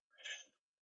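A single short sneeze, close and fairly loud, bursting out and fading in under a second with no talk around it.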